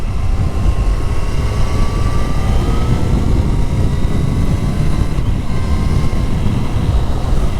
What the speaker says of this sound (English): This engine's smoother than my 1200.